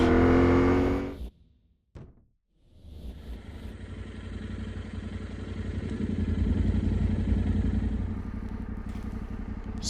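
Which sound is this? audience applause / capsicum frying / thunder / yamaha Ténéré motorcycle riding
yamaha Ténéré motorcycle riding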